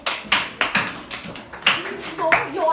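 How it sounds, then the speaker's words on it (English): Several sharp hand claps at an uneven rhythm, close by, with a voice speaking briefly near the end. "Very good. Clap for yourself."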